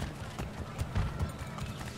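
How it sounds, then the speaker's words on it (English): Horse hooves in the video game Assassin's Creed III clop at a steady trot over a noisy background, moderately close, with a few heavier low thuds. "I got a horse. I'm on a horse, and you're just walking."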